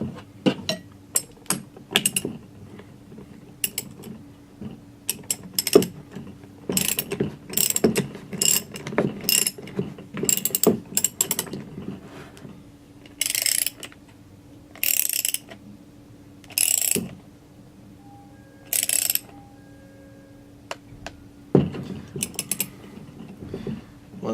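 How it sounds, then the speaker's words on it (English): A torque wrench clicks and ratchets in quick irregular bursts while tightening bolts on a half-inch PTFE air-operated diaphragm pump, with crisp metallic ticks and brief pauses, close and without talking. "then we will use our torque wrench to get the final torque on them."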